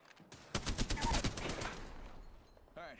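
A quick burst of rapid automatic gunfire in Apex Legends, a cluster of close, punchy shots lasting about a second that fades into a lingering tail, with a brief vocal sound at the very end.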